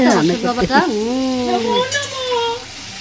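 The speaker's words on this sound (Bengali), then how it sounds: "আলুটা গাজরটা কিন্তু ভেজে নেবো" Potatoes and carrots fry in oil in a wok with a steady sizzling hiss, partly masked by a loud, wavering voice.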